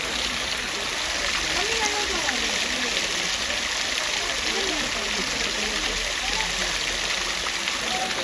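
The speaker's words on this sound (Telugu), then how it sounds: "ఇక్కడ మనకి ఒక చిన్న వాటర్ ఫాల్ ఉంటుంది" A small waterfall near Srisailam rushes in a steady, loud wash of falling water, with faint voices murmuring under the constant roar.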